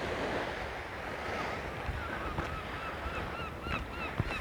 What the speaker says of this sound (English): But it really is nice to be on the sea again. Just stand here listening to it.